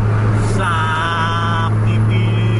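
A Scania bus engine roars during a roadside bus race on dirt and the road shoulder: a loud, steady drone with a sustained tonal whine through the middle, and voices faintly in the background.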